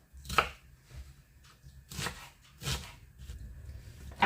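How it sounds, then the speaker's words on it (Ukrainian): A knife chops onion finely on a board for mushroom and chicken risotto, giving a few sharp, close cuts spaced irregularly with quiet pauses between them. "І перш за все нарізаємо цибулю."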